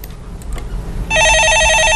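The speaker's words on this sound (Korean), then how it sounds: "네, 전화 받아보겠습니다." A telephone rings in a live stock market call-in broadcast: a loud, steady electronic ring with a warbling repeated tone starts abruptly about halfway through, following a quiet stretch of background noise.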